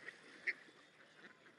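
Ducks or geese squabble while being fed beside a canal, with faint, scattered honks and quacks at a distance and a couple of sharper calls, no talk.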